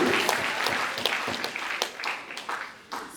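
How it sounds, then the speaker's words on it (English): Applause from the crowd at a retirement celebration for a superintendent of schools, with individual sharp claps standing out near the front over a thinning background of hands that gradually tapers off. "Clapping, superintendent of schools."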